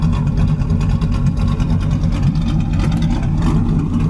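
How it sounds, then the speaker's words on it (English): A 1966 Ford Fairlane 500 XL with a loud aftermarket exhaust idles close by, its deep, steady engine rumble filling the whole stretch without a break. "I know the exhaust might be a little loud for some"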